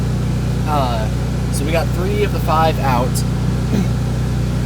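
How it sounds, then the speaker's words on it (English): A generator drones steadily in the background at a building site where trusses are being put up, a constant low hum running beneath a man's close speech. "You guys can probably hear the generator in the background."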